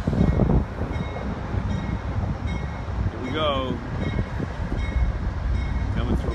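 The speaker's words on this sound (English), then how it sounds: "It's the train from Chicago." Amtrak's Lake Shore Limited, a passenger train from Chicago, rumbles past in Worcester with a steady broadband roar throughout; someone talks briefly over the noise.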